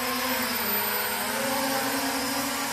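A Syma X9 flying car drone in flight makes a continuous, close, loud buzzing whine of small spinning rotors that holds steady throughout.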